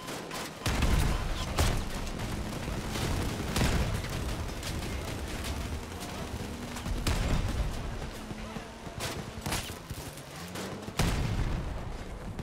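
Cannons fire repeatedly in the vehicle combat game Crossout, with sharp booming blasts spaced a second or more apart over a steady mechanical engine rumble, loud and close, while someone talks at times.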